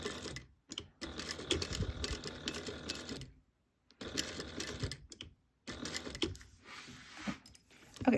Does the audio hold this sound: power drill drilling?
no